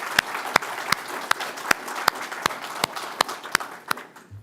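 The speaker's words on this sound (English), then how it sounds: "So a huge round of applause." Applause from a business symposium audience, carrying on steadily for a few seconds, moderately loud and marked by a series of sharp regular knocks.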